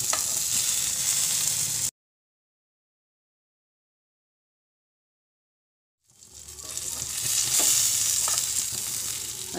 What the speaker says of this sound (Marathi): आता दुसऱ्या पण मी फ्राय करून घेते